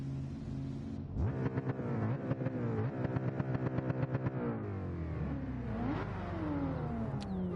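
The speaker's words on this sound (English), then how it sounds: "Listen to my car." A race car in Gran Turismo 7 revs its engine loudly, rising and falling in quick repeated bursts of throttle, then settles into a steady idle with a final rising rev.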